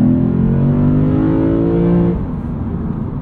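A 2023 Lexus IS 500 pulling away hard from a stop sign in normal mode, its engine roaring loud and close with rising tone for about two seconds before the pitch drops at a shift and the note settles lower.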